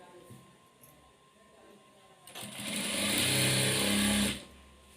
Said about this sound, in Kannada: ಇಲ್ಲಿ 1 ಇಂಚ್ ಮಾರ್ಕ್ ಮಾಡಿದ್ವಲ್ಲ ಅದ್ರ ಮೇಲೇ ಸ್ಟಿಚ್ ಮಾಡ್ಕೊತ ಬರಬೇಕು